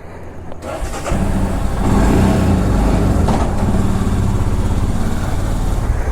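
A motorcycle engine starts at the outset of a long road trip from Delhi toward Ladakh, catching after a brief crank and then settling into a loud, steady idle close by.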